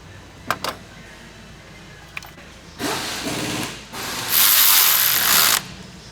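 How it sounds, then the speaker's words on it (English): A ratchet tightens the 17 mm high-pressure fuel line on a 2016 Volkswagen Jetta engine. A few faint clicks come first, then two loud, close bursts of rapid ratcheting with no talk. "Tightening the 17 mil high pressure fuel line. Make it nice and snug"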